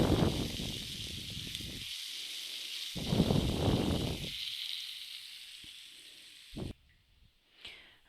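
Peas and sweet corn sizzle in a hot pan while cooking for samosas, the frying hiss loud in bursts, then fading and going quiet near the end.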